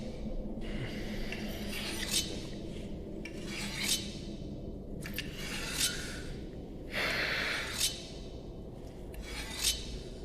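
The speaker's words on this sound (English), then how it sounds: "Stop fucking sharpening that knife." A knife is sharpened in slow, rhythmic rasping strokes, each scrape rising and fading, with a steady low background hum.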